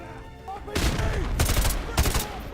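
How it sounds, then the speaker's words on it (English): A grenade explosion and gunfire in a video game: a sudden loud blast followed by dense, rapid bursts of gunshots, all close and loud with no voices. "Ah, grenade!"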